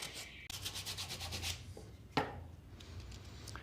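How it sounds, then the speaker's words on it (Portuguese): Fine sandpaper, folded in two, rubs rapidly back and forth along a wooden strip in a string of quick rasping strokes, followed by a sharp knock and a few softer scrapes, close and alone. "A lixa fina, se você quiser passar ela de lado, não tem problema nenhum."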